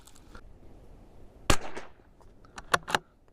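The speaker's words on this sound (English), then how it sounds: "We'll go ahead and shoot another 5 more." Shots from a CZ457 rifle ring out outdoors as a few sharp, short cracks, one louder report followed by quicker, fainter pops, with no talking.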